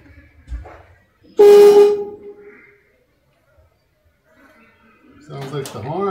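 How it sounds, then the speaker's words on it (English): An old car horn blares in one loud burst lasting under a second, fading out, with faint knocks before it and a voice speaking close by at the end. "Sounds like the horn."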